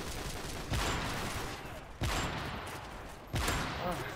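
Gunfire in Call of Duty Modern Warfare 3 comes as three sharp bursts spaced over a few seconds, each blast leaving a rumbling tail that fades before the next.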